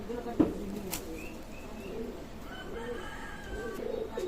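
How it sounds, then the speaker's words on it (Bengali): Pakistani teddy pigeons of an Oman bloodline coo near a breeder's cages, low, rolling throaty calls that repeat in bursts over a faint background, with a sharp knock early on. "অনলি পঁচিশশো টাকা রানিং পেয়ার কবুতর"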